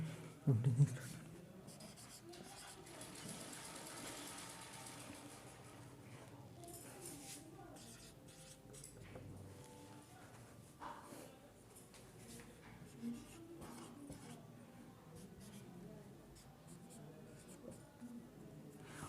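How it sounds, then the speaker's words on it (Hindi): Math questions being written out by hand, faint scratchy pen strokes on paper that come in short bursts beneath a quiet background. "अब हम एक बार क्वेश्चन पूरे लिख देते हैं।"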